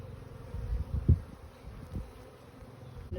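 Honey bees drone softly around an opened hive during a spring split in Durango, Colorado, a low steady buzz with a few louder passes close by.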